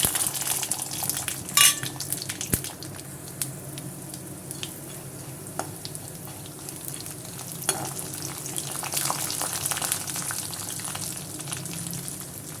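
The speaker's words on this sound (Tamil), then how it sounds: "இந்த முந்திரியும் கடலப்பருப்பும் சேர்த்து பொன்னரோல வறுத்துக்கலாம்" Cashews and chana dal fry in oil with mustard seeds and urad dal: a faint, continuous crackling sizzle with occasional light clinks of a utensil against the pan.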